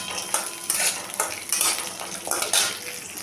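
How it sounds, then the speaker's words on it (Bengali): Green chillies, peanuts and garlic fry in a pan while a utensil scrapes and stirs in rhythmic strokes, a soft sizzle running beneath the repeated metallic sweeps. "দিলাম কাঁচা লঙ্কা, বাদাম, দিলাম রসুন, একটু ভেজে নেব মশলাটা"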